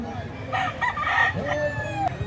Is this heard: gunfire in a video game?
no